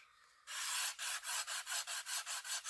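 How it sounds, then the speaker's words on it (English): Heavy-grit sandpaper rubs along the edges of a wooden model ship, starting with a long stroke and then settling into a steady rhythm of close, loud rasping passes with no talking. "you just want to get the sandpaper and just start to just take the edges off"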